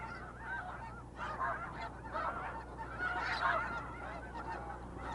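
A flock of migrating geese honks at Blackwater refuge, many overlapping calls at a moderate distance over a steady low background hum, with no speech.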